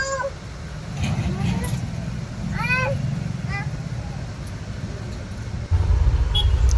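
A bus in rural Gujarat, India, pulls away. A steady low engine rumble and road noise run throughout and thicken near the end, with a few faint cat-like squeaks and a little background voice on top.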